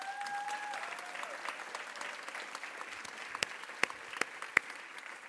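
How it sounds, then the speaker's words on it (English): Quiet, distant applause from a lecture audience at a journalism school event, soft scattered clapping with a few sharper nearby claps standing out toward the end. "everybody should give her another round of applause"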